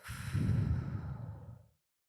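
A single long, soft exhale during guided breathing, breathy and close, swelling and then fading out to silence.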